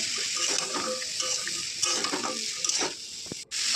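Chicken being stirred in a cooking pot for a chickpea curry, with a steady sizzle and scraping spoon strokes running throughout, close and moderately loud, with no talking.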